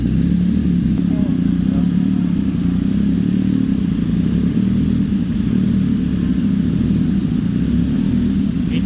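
A CFMOTO NK800 motorcycle engine runs in a steady, loud low rumble through the whole stretch, with people talking nearby at a motorcycle showroom display.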